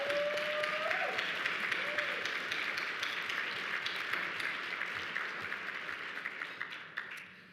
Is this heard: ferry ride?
no